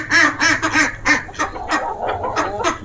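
Ducks quacking repeatedly in a quick, uneven series of nasal calls during morning feeding alongside desi chickens, close and moderately loud with no voices.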